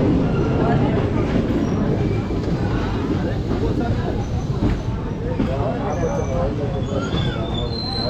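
The Sapthagiri Express pulls out of Renigunta station with a steady, loud rumble of the train and rattling wheels. Someone talks over the noise throughout.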